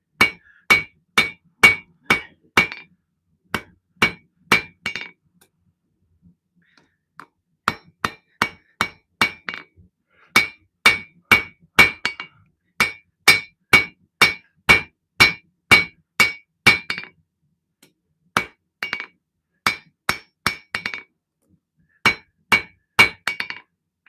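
Small hammer forging the tang of a custom knife at a home forge: bursts of rapid, bright metallic ringing strikes, close and loud, separated by brief pauses, with no talking.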